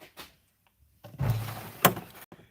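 Workshop drawers are pulled open while someone hunts for a large socket: a few light knocks, then a rumbling slide and a sharp clack, with a final soft knock.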